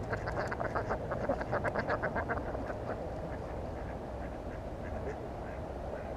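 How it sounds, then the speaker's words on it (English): A bunch of ducks quacking near a fishing spot, rapid repeated calls loud at first and then thinning out against steady outdoor background noise. "as you can hear, there's still a bunch of ducks"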